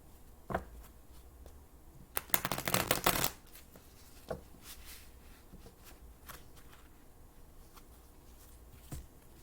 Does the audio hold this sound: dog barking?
no